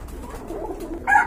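Rasgolla pigeons, a pair of colouring-gola birds at a pigeon sale, give a soft low coo followed by a brief louder call near the end, close by in a quiet setting.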